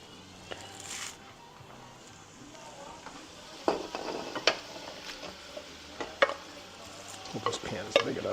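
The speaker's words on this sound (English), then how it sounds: "And we're going to now add our crawfish," Seasoned crawfish go into a pan of softened vegetables, with a quiet sizzle and scattered stirring scrapes and clinks of utensil against pan, coming closer and louder toward the end.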